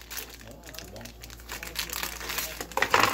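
Plastic packaging of a Beyblade Dragon Dynamite toy crinkles and crackles close up as it is unwrapped, with a voice speaking over the rustling.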